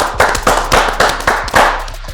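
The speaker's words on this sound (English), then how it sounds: "Let's get a clap up in here tonight" A live audience claps at a rap show taping, a steady wash of many hands beating in loose unison with rhythmic swells roughly twice a second, loud and close.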